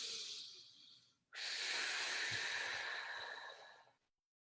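A long, deep inhale during a breathwork meditation fills the space with airy rushing breath, preceded by a shorter breath, close to the microphone, then stops into silence.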